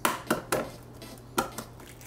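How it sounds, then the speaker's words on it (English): Boiled eggs cracked against a hard surface in a kitchen while being peeled, giving a handful of sharp, close taps in two small clusters over a quiet background, with no talking. "I'm going to crack and peel the eggs."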